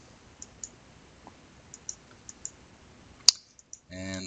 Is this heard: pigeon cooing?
no